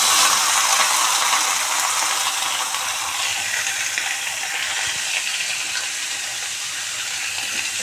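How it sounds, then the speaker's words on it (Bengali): Bay leaves and cinnamon frying in a pan with oil: a steady, close sizzling hiss that stays fairly loud and even throughout, with no talking. "এগুলো দিয়ে দিছি অলরেডি, তো ভাজতেছি"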